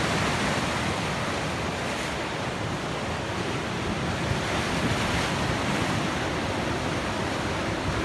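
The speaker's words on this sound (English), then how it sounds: "just standing here watching the waves" Sea waves breaking on the shore at Montrose, a constant loud wash of surf mixed with wind buffeting the microphone and no clear pauses between the waves.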